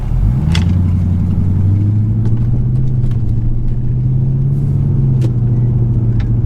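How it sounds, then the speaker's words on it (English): Cabin of a 2000 Lexus GS400 while driving, a loud, steady low engine rumble and road drone that rises slightly as the car accelerates, with occasional faint clicks and knocks, no talking. "right now I'm currently riding in my 2000 Lexus GS400"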